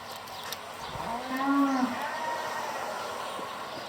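Cattle mooing on a farm with large sacrificial livestock, one long low moo swelling in the middle of a quiet barn ambience, fairly close and clear.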